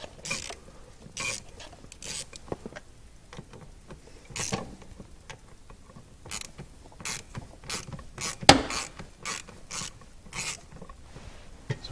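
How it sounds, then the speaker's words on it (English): Screw being backed out of a Jeep Cherokee blower motor resistor under the dash, a series of short scattered ratcheting clicks and creaks with a few brief pauses, close and fairly quiet. "we'll remove the other screw."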